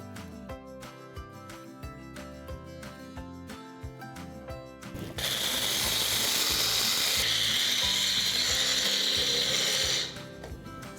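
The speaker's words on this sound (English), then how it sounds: "Basically we have to grind all the chilies, but we'll grind it little by little." Spice grinder whirring loudly and steadily as it grinds chilies and salt, starting abruptly mid-clip and running about five seconds before cutting off, with clattering ticks before it.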